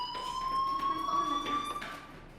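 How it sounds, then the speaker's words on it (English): A fire alarm in the video game Life Is Strange rings continuously as a loud, steady electronic tone with a slightly rising pitch, filling the whole moment. "Hey, do you hear that fire alarm?"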